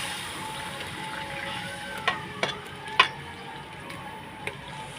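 Chana dal is poured into a pan of cooked potatoes and fries with a continuous soft sizzle. A few sharp spoon clicks and taps ring out against the pan.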